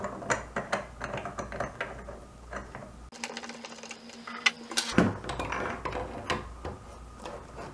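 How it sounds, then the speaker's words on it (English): Irrigation valve fittings being screwed together by hand, with close clicking and ratcheting scrapes of threaded parts turning in irregular bursts and a brief squeak, no talking. "So let's just start screwing this together."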